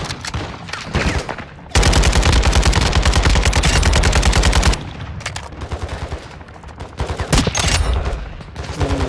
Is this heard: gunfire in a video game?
yes